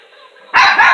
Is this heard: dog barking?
yes